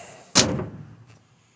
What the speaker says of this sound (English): doors shut like butter, doesn't rattle, windows don't rattle in the tracks